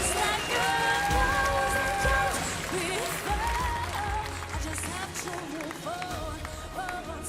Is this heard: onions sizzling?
no